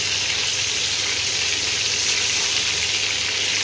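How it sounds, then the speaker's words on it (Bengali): Duck eggs frying lightly in a mix of oil and ghee give off a steady, close, continuous sizzle with no voices. "ডিমগুলোকে একটু হালকা করে ভেজে নেব।"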